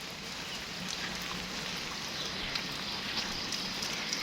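Steady rain falling in foggy surroundings, a constant hiss of drops with a few louder splats, moderately loud and unbroken.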